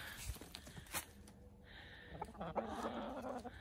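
Chickens in a backyard chicken yard crowding onto a pile of weeds, soft clucks and scratchy rustling from the flock, faint and close, with a person's voice in the background.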